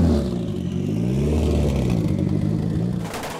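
A Mitsubishi Mirage Cyborg accelerating hard during a street sprint race, its engine climbing through rising revs with a clear gear change, loud and close, then dropping off at the end.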